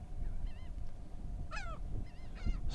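Geese at a beach honk in a few separate calls, some rising and falling sharply, over steady low rumbling wind or surf.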